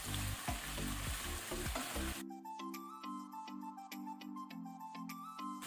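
Shrimps, chestnut mushrooms and yellow capsicum stir-fried in an open pan, a dense sizzle at first that drops to a quieter crackle with steady clinks of a spatula scraping and stirring, no voices.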